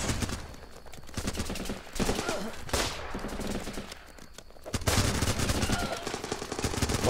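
Rapid gunfire in the military shooter game Running with Rifles, bursts of automatic fire crackling in clusters with brief lulls between, loud and close with some echoing distant shots.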